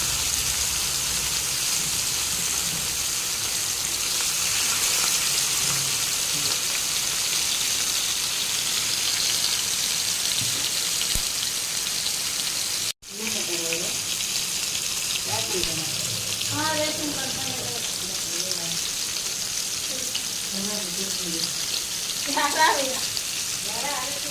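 Senja fish sizzling in hot oil in a pan, a steady bright crackling hiss that runs throughout, with someone speaking over it in the second half.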